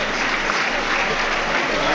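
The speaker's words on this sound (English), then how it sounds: "Muted applause for Alexandra IEVLEVA of Russia." Muted applause from the crowd at a women's figure skating competition, a steady even wash of clapping that holds at the same level throughout.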